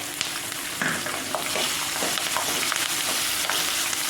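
Green chillies and curry leaves crackle and sizzle in hot oil for kanda poha, with a steady loud fry and occasional scraping stirs against the pan. No talking is heard.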